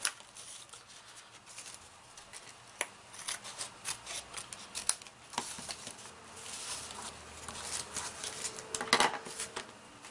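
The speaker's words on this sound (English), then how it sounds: "flipping it over, you're going to cut off the excess." Scissors snip off excess card paper on a snowman step card, a series of close, crisp cutting clicks at an irregular pace, fairly faint.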